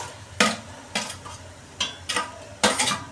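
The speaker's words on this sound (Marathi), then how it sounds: "कांदा पण चांगला तेलावरती चांगला परतून घ्यायचा" Onion stirred in hot oil in a pan on a high flame, with garlic already fried in it for a goat mutton sukka dish. Several separate scraping stirs ring out close and clear over a soft, steady sizzle, and no one talks.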